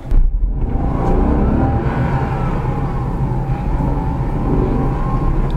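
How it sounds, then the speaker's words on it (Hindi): Engine of a Renault Kwid droning steadily from inside the cabin as the car accelerates, a rising whirring hum with road rumble underneath, continuous and fairly loud with no talking. "नॉइस आप सुन पा रहे होंगे, जैसे ही एक्सलेट कर रहा हूँ तो नॉइस का लेवल भी काफ़ी बढ़ता जा रहा है"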